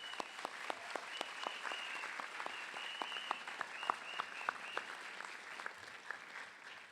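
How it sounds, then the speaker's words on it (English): Graduates at a spring College of Law commencement ceremony applaud their families and friends, with many hands clapping in a sustained, moderately distant round of applause across a large hall. "Graduates, please join me in applauding your family and friends."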